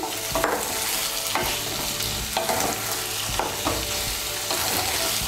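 Chopped tomato fries in a spice paste with a steady close sizzle, while a spoon scrapes and stirs in repeated strokes throughout.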